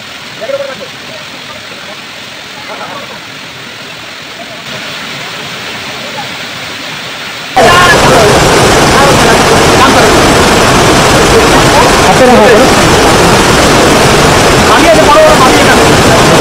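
Bamni Falls waterfall in the Ayodhya hills with people bathing in its water, a broadband rushing roar that starts moderate and then surges much louder and closer partway through, holding steady to the end.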